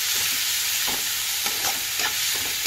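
Spiced potato and pointed gourd curry stir-fried in a pan, a constant hissing sizzle broken by soft rhythmic scrapes of a spatula every half second or so, close and alone.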